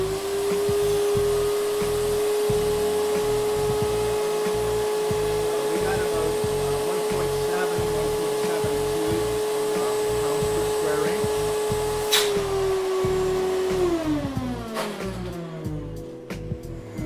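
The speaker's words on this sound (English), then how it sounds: "I've closed off the tube to the electric vacuum pump, and I'll turn this on" An electric vacuum pump for laminating runs with a steady, loud whine and hum, then winds down in pitch as it is switched off near the end.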